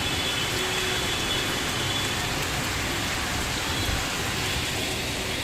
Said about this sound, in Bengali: প্রচুর জোরে জোরে বৃষ্টি হচ্ছে